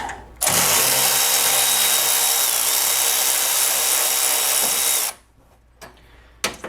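A power drill backs self-tapping screws out of a 1999 Yamaha G16 gas golf cart, whining loudly and continuously for about five seconds, then stopping, followed by a few faint clicks and handling noises.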